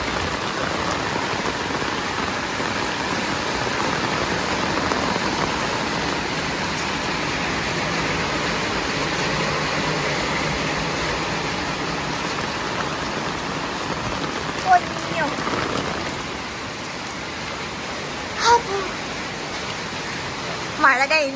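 Rain falls in a steady, dense wash of hiss for about twenty seconds, with a few louder knocks and thumps near the end.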